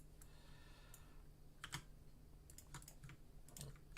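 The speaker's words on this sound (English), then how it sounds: "Furious typing intensifies." Rapid computer keyboard typing, a dense run of close, crisp key clicks with a steady low hum underneath, no voices.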